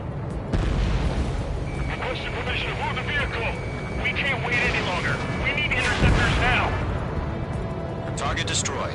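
Anti-aircraft guns fire in the video game Ace Combat 7, giving heavy booms and thuds over a continuous battle rumble while voices talk throughout.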